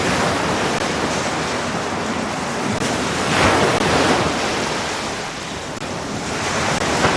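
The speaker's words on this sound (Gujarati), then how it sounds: "દરિયો ઊંચા મોજાઓથી ડરાવા લાગ્યો" Heavy waves surge and break on a stormy sea, a loud continuous roar of surf with wind noise swelling and easing, no voices.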